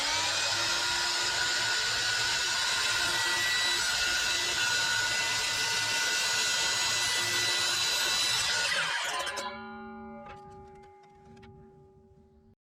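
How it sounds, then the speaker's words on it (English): A high-pitched power tool whines steadily while cutting a seam in a wooden interior panel of an Endeavour 52 sailboat, then spins down and fades over the last few seconds; no voices. "we're just going to cut the seam there"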